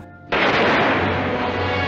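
A burst of gunfire from the 1952 Western film High Noon starts after a short quiet lead-in and carries on as a loud, dense, sustained crackle of shots and echo for over a second and a half.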